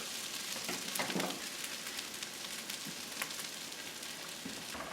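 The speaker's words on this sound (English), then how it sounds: "I turned this off, but I'm still stirring it." Shrimp fried rice being stirred in a pan with the heat just turned off, a soft steady sizzle with faint scraping strokes, quiet and continuous, with no talking.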